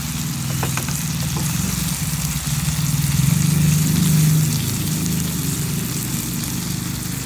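Sardines frying in a pan with a little salt for breakfast, a steady, fairly loud sizzle and crackle that swells briefly midway, with no talking.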